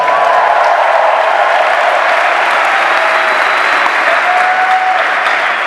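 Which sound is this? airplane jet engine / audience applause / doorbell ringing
audience applause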